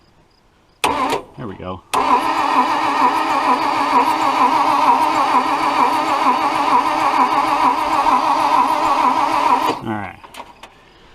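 A Toyota FJ55 Land Cruiser engine cranks over steadily on the starter for about eight seconds, loud and close, with a brief crank before it and a short spoken remark.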